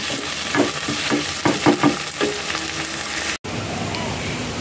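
Ginger, cumin and chili pastes frying in a pan with chili powder for a vegetarian dish, a close steady sizzle broken by several scraping stirs, cutting off abruptly near the end before resuming.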